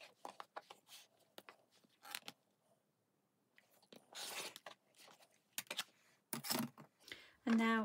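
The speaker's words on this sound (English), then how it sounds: "I'm going to remove the pins and then cut along that drawn line." Scissors cutting quilting fabric along a drawn line for a Diamond Square quilt block, a series of close crisp snips and slicing cuts in irregular bursts with short pauses between them.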